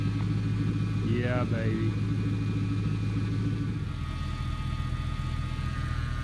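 The engine of a 1969 Ford F250 pickup runs at a steady, close rumble throughout, its power steering pump not yet bled of air, and someone speaks briefly over it.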